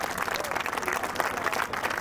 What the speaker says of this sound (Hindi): जोरदार तालियां बजाओ खुद के लिए।